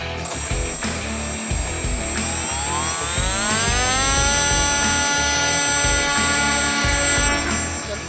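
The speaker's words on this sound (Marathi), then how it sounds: "त्यातलं पहिलं फायटर विमान जे आहे MiG-21 हे आता आपल्यासमोर झेपावणार आहे." A model MiG-21 fighter jet takes off at an aeromodelling show, its small engine whining and climbing steadily in pitch to a sustained high scream over constant background rumble, loud and close, with no talk.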